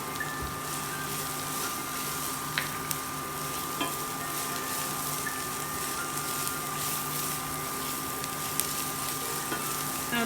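Whole cardamom pods, cloves and cumin seeds fry in a pan for aromatic rice, giving a steady, faint sizzle with a few small pops and clicks throughout.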